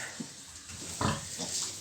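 Piglets grunting softly in short bursts, close by, huddled together, with a low background hum.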